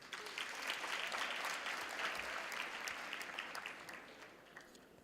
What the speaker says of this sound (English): Can we applaud him?